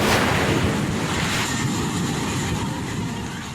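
Floodwater of a swollen river in Tibuli, South Cotabato, rushes past a hanging bridge during bad-weather flooding: a loud, steady roar of churning water with wind buffeting close to the microphone.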